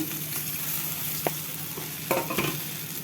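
Eggplant with onion, garlic and masala sautés in a pan under a steady close sizzle, with a couple of brief spoon scrapes and stirring knocks near the end.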